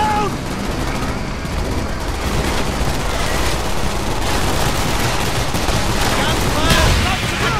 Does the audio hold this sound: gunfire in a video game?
yes